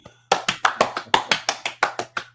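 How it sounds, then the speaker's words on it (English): About a dozen evenly spaced claps from a single pair of hands, close and crisp, form a short round of applause. "Round of applause."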